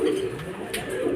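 Racing pigeons cooing at a loft during a club fun race as birds come in, a steady low coo repeating close by through the whole moment.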